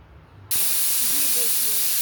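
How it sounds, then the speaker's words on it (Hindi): A pressure cooker on a gas flame, cooking carrot halwa, lets out its whistle: a sudden loud, steady hiss of escaping steam that starts abruptly and continues unbroken, close and dominant. "एक सीटी आ गई है तो गैस का फ्लेम हम ऑफ कर देते हैं"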